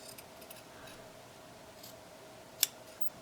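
Scissors cut a felt flower shape for a shamrock craft, mostly quiet soft snipping with one sharp, close snip near the end, and no talking.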